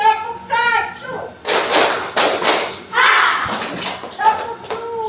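An elementary class in Indonesia claps together in a counting game, sharp group claps in short bursts between a teacher's chanted prompts and children's voices.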